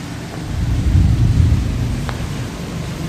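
Steady heavy rain pours outdoors over concrete pavement, with a deep, rolling rumble of thunder swelling and fading underneath; no voices.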